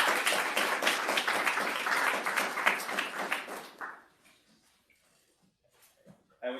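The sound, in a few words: audience applause after a workshop talk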